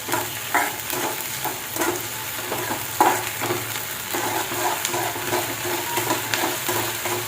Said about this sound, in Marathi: आता चांगलं आपण हे परतून घेऊ कांद्यामध्ये आलं लसूण पेस्ट.